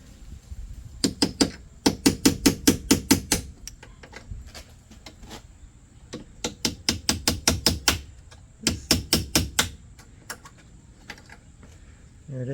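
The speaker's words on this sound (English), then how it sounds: "Now I'm going to use a little punch and try to get the rest of that rivet out of there." A small punch is hammered to drive the remains of a rivet out of a 2006 Audi TT Roadster wind deflector, heard as rapid bursts of sharp metallic taps in several quick clusters with short pauses between.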